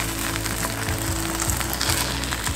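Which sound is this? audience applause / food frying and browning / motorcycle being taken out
food frying and browning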